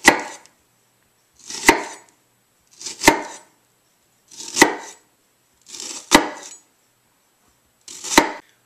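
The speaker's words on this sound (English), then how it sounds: "I'm going to make several vertical cuts through the face of the onion" A knife chops down through an onion onto a cutting board in six distinct, evenly spaced thuds, each crisp and close, with silence between the strokes and no talk.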